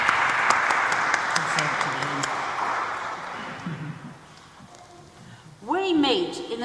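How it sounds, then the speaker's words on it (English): A church congregation applauds during a service, steady moderate clapping that gradually thins and fades before a single voice begins speaking. "Why don't we give them a big round of applause as they begin?"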